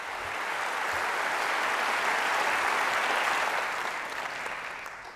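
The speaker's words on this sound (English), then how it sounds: "just a big round of applause from them to cover our opening title sequence" Studio audience in a London concert hall gives a sustained round of applause, a dense, even wash of clapping that swells and holds for several seconds before tailing off, with no talking over it.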